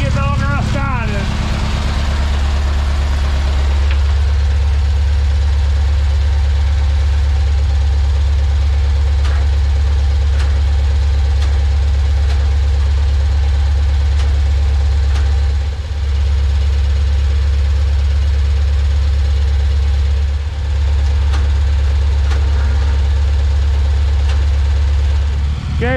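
Dixie mower engine turns over in the first seconds, then settles into a loud, close, steady running drone that continues throughout with only slight dips.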